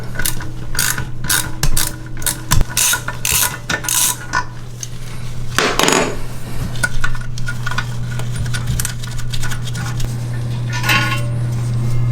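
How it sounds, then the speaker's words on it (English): A ratchet unscrews a rusted toilet tank bolt, giving a run of close, sharp clicking bursts in quick succession, then a pause and a few more clicks over a steady low hum. "So now with your ratchet, unscrew"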